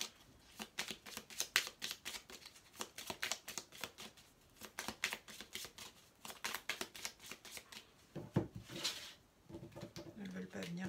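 Deck of playing cards riffled and shuffled repeatedly close by, with quick crisp bursts of fluttering card noise in an irregular rhythm and a soft shuffle near the end.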